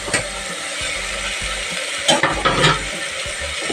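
Thinly sliced cabbage for a pulav hits hot oil or ghee and fries with a continuous close sizzle. Scraping and stirring sounds run underneath, with louder bursts of stirring toward the middle. No one speaks.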